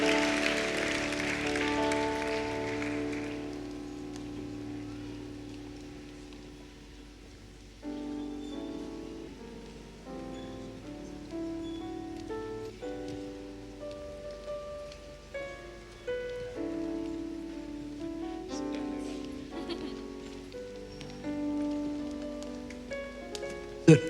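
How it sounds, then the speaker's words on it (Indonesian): Applause from a church congregation at a 50th anniversary service, a dense crackling burst that fades after a few seconds as instrumental worship music carries on alone. "Sekali lagi berikan tepuk tangan yang terbaik untuk Tuhan kita yang dahsyat."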